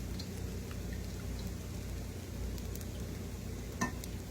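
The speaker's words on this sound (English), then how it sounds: "I'm going to use a spoon from over here to stir up my sauce." A spoon stirring fried rice sauce in a pan without a wok, a soft, steady sizzling hiss with faint scraping throughout, fairly quiet and with no talking.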